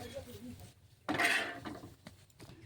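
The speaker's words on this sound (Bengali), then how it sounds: "কড়াই বসিয়ে দিয়েছি" A metal kadai is set down on the stove with a single clattering clank, followed by faint kitchen rustling in a home kitchen where sweet pitha is being made.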